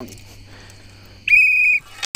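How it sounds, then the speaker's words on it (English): One short, shrill whistle blast of about half a second sounds close by at a catfishing tournament on Lake Octoraro, Pennsylvania, signalling a caught fish, over a low steady hum. "Gotta blow the whistle."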